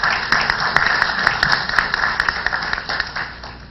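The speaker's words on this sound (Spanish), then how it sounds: "Recibamos con un fuerte aplauso a la señora Echauri." Seminar audience gives a round of clapping, individual claps audible as a brisk, fairly close patter that thins toward the end.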